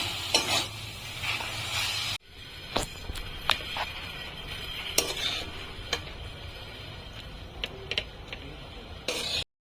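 Quiet sizzling in a pan with intermittent scraping and clinks of a spatula stirring fenugreek greens, steady and close, with no talking.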